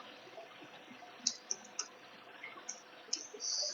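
Text is typed into an Excel salary sheet on a computer keyboard as a quiet string of separate key clicks, uneven in rhythm and close by, with no talk.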